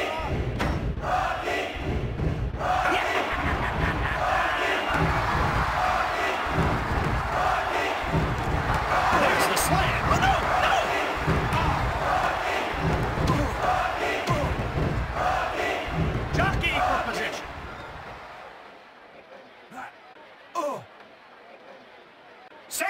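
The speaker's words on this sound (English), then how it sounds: "This crowd is deafening!" Wrestling arena crowd roaring in the WWF Attitude video game on Sega Dreamcast, a dense continuous cheer with rhythmic thumps for about seventeen seconds before it drops away to near silence.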